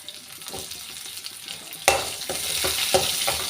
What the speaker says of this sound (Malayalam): വെളുത്ത ഉള്ളി, പിന്നെന്താ അതൊന്ന് വഴറ്റിയെടുക്കുക.